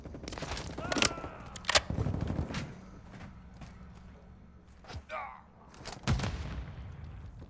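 Battle rifle fire in the shooter Warzone 2, a few sharp separate cracks spaced out over the stretch among other game noises, with a voice talking in places.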